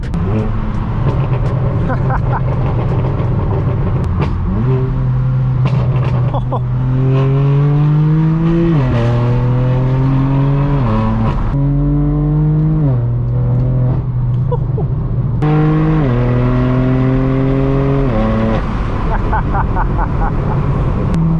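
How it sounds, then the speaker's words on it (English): A loud straight-piped inline-six BMW M4 (F82) exhaust accelerates hard, its raspy tone climbing in pitch and dropping at each gear shift, repeated several times. "That really deep, raspy inline six sound is so addicting in this car."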